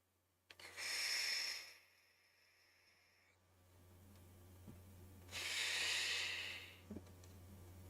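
Two loud, close breaths, a long hissing exhale near the start and another a few seconds later, with quieter rustling and a steady low hum between them and no talking.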